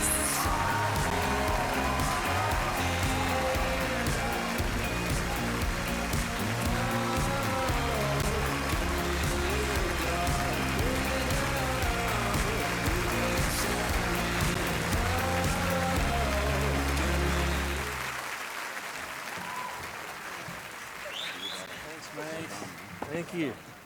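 An awards-show crowd at the ARIA Awards applauds a band, a loud, sustained roar of clapping and cheering that fades toward the end as voices talk over the dwindling noise.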